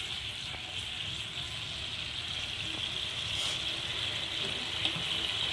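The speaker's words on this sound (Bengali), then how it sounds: "এবার আমি এর মধ্যে একটু জল দিয়ে দিচ্ছি" Water poured from a tap into a cooking pan on a gas stove while making a Bengali fish curry, a steady soft splashing rush that runs evenly throughout at low volume.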